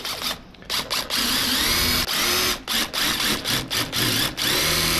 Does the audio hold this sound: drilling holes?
yes